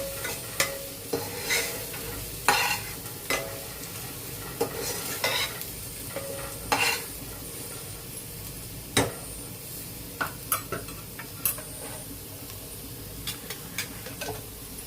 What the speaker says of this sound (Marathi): अद्रक लसणची पेस्ट आणि तो कच्चा मसाला थोडासा जरा भाजून घेऊ आपण.